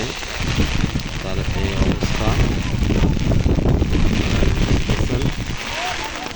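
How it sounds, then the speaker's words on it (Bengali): Heavy rain pours in a dense, loud roar at Rouhabari crossroads, with wind buffeting the microphone and muffled voices mixed underneath. "বৃষ্টি তো অনেক বৃষ্টি"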